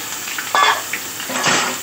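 Onions stirred in a pan of hot oil with bay leaf and dried red chilli, a steady close sizzle broken by a few scraping stir strokes, with no one talking.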